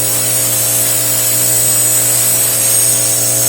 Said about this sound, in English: we're gonna use this grinder to sharpen this part